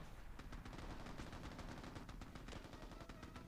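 Rapid, dense gunfire in the Xbox game Mercenaries rattles without a break, bursts of shots overlapping in a loud, continuous barrage with no voices.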